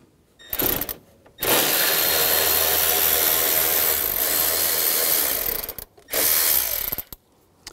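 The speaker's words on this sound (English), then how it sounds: "Now I'm gonna use an 8mm socket and take this bolt out up here." An 8mm socket ratchet clicks rapidly and loudly up close while removing a bolt during a radiator cooling fan replacement on a 2011-2019 Ford Explorer, sounding in one short burst and then one long run, each followed by a brief pause.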